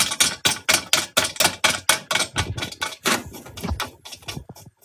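Drum key turning the tension rods on a snare drum, a steady train of sharp ratcheting clicks repeating about every half second, close and dry, slowing and thinning toward the end.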